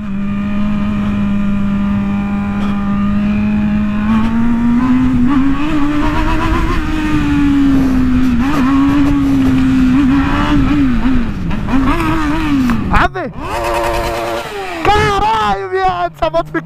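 A 2019 Honda Hornet motorcycle engine idles loud and near, then revs and climbs in pitch, with sharp blips and throttle bursts near the end.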